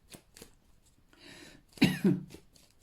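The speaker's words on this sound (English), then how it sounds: "Sorry for the cough" A single harsh chesty cough, close and fairly loud, preceded by faint shuffling and a short breathy rustle.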